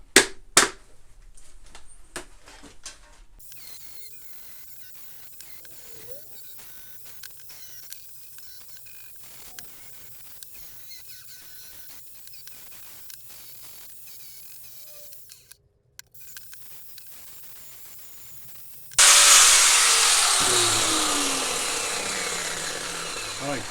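Power tool grinding the galvanised coating off a steel hinge part before welding, a quiet stretch of scattered clicks and handling knocks giving way to a loud, steady abrasive roar near the end.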